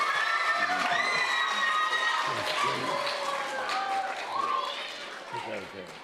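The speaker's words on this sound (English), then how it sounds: "let me hear a large round of applause for them as they exit." Audience at a citizenship challenge competition cheers and claps as contestants leave the stage, a steady crowd noise with shouting voices that slowly fades over several seconds.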